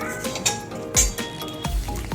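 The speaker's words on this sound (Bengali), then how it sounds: "কড়াইতে দিয়ে দিয়েছি কটা মৌরি, আমি ভেজে নেব।" Fennel seeds dry-frying in a kadai on a gas stove, giving a few sharp close clinks and light rattling pops against the metal pan.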